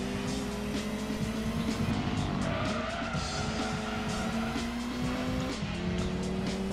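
A car drifting sideways in the racing video game Gran Turismo 2, with a steady engine whine under long, sustained tire squeals that shift pitch as the slide continues, loud and close.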